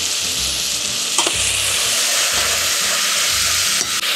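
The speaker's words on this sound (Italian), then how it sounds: "abbiamo praticamente l'olio che sfrigola, quindi che sta rosolando bene la carne" Pieces of game meat sizzle and brown in hot oil in a pan for a stew, a steady close frying hiss with soft scraping as the meat is stirred, continuous throughout with no talking.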